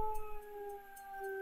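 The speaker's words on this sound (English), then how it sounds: "if I howl in here" A wolf howls in the video game WolfQuest, a clear sustained tonal wail with stacked harmonics held across the whole brief moment, loud and close.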